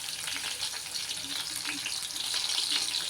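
Crushed garlic and green chili fry in hot oil in a pan, giving a steady, dense sizzle that continues throughout and grows slightly louder toward the end, with no talking.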